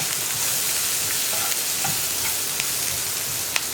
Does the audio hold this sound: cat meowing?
no